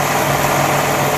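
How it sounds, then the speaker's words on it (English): A serger sewing machine runs flat out in a continuous, even high-speed whir with a steady mechanical buzz, loud and close, with no pauses. "Anyone else get a rush driving fast on your serger?"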